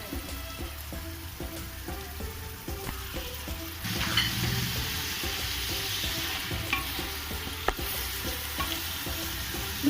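Tomato puree hits sautéed onions in a hot pan and sizzles, with rhythmic spoon scraping and stirring throughout; the frying grows louder and more crackling about four seconds in.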